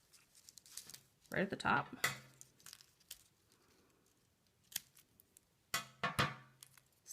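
Scissors snipping through a woven film strip for a pouch craft, two short bursts of crisp cutting and crinkling close up, with a voice speaking briefly.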